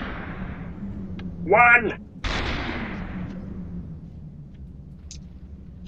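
Gunfire in the SuperHot VR video game: a sharp shot cracks out, followed by a lingering low rumble and scattered faint clicks, while someone speaks briefly.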